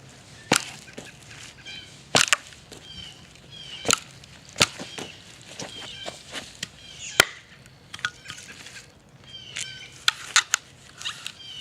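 Sharp, irregular knocks of a baton driving a forged blade through wood, close and loud, with splitting cracks between strikes and a few high cries in the background.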